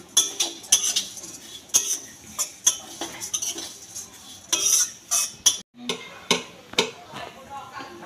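Flattened rice (chire), hand-pounded rather than machine-made, stirred in a hot pan, giving repeated scraping and clinking of a spatula against metal in an irregular rhythm, with a light sizzle underneath.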